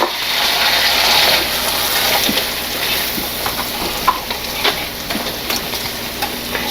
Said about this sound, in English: Now I'm going to put in onions.